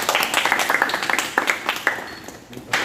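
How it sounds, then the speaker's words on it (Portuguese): Audience applause at a church discipleship class, a few minutes of uneven scattered clapping at moderate level that thins out toward the end, with voices mixed in. "Uma salva de palmas, por favor."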